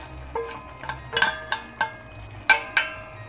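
Strained pasta tips into a pan of meat sauce, bringing a series of light metallic clinks and knocks of utensil against pan, spaced irregularly and heard up close.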